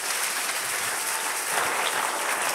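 A church congregation applauding, a steady wash of many hands clapping at moderate volume, with no talking over it.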